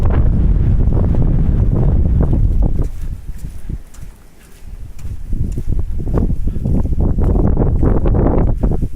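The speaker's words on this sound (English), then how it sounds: "Get out of the wind." Strong wind on Iron Mountain in Idaho's Soldier Mountains, loud gusting roar and microphone buffeting that briefly eases mid-clip before surging back.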